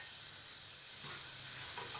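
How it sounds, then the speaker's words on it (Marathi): Capsicum stir-frying in oil over a high gas flame for dry Manchurian, heard as a faint, steady sizzle and hiss with light stirring, no voices. "शिमला मिरची पण 3-4 मिनिटं जवळ फास्ट गॅसवरती परतून घेतली आहे."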